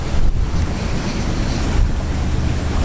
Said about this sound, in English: we're out here in 20 plus knot winds, but there's just not that much surf